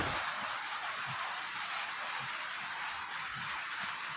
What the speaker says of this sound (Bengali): প্রচণ্ড বৃষ্টি হচ্ছে অঝরে